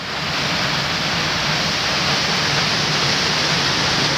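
Water rushes fast along a village irrigation canal in a steady, loud, broadband roar with no pauses.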